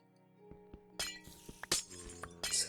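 Glass breaks in a video game, a string of sharp clinks and several bright shattering crashes landing in quick succession over a quiet background hum.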